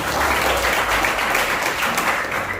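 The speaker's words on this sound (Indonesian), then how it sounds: "Tepuk dong untuk Gus." An audience at a large seminar in Sukabumi claps together, a loud, close burst of applause that stays thick throughout the short stretch.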